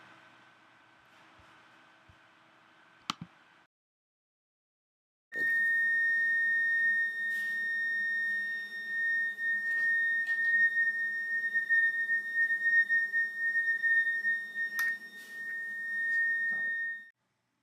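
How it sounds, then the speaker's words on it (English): A moving sound source gives a steady pure electronic tone that shifts in pitch as it travels, sounding loud and continuous with slight wavering for about twelve seconds after a brief quiet lead-in. "This is the sound source while it's moving."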